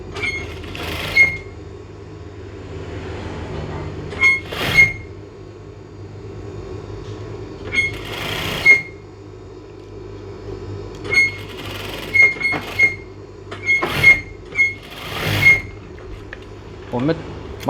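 A sewing machine runs in repeated short bursts along a trouser crotch seam, each whirring run separated by pauses. Close and fairly loud, with someone speaking at times between the stitching.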